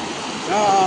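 Fast-flowing floodwater during a 2025 flood in Ratanpur, Hailakandi, rushing in a steady loud hiss and roar with a voice speaking over it.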